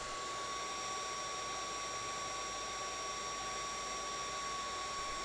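A heat gun shrinking heat shrink tubing over a solder joint blows a constant airy roar with a faint steady whine, unbroken and even throughout.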